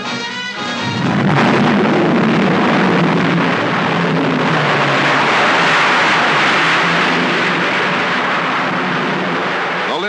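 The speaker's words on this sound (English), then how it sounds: "the Redstone rockets into space for 115 miles" A 1961 Redstone rocket lifting off: a loud, sustained, broadband roar that builds suddenly after a second of quieter noise and then holds steady and powerful for the rest of the ten seconds.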